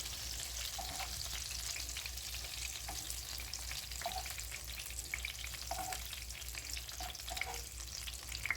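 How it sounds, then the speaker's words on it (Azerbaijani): Green peppers sizzle steadily in a frying pan, a close, continuous crackle with small pops and stirring scrapes throughout, no voices. "Biberləri də qızardan zaman üzərinə az tuz əlavə edirəm."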